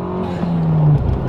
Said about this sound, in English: Got wheel spin start!